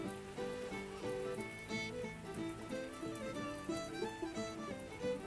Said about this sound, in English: But it is raining, so we got muddy roads.